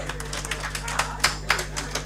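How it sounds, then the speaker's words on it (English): Audience applause at a campus journalism awards event, a modest scattering of claps with a loose, uneven rhythm over a constant low hum, fairly distant and brief. "Please, let's give ourselves a round of applause."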